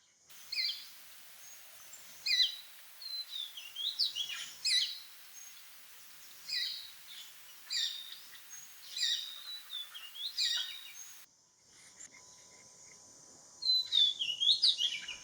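Shikra (Accipiter badius), a small hawk in a Thai garden, calling in a series of sharp, high, repeated notes in bursts, fairly close and clear against a quiet background.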